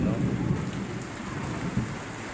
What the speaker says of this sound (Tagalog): kumukulog guys, ingat pa rin tayo at may kulog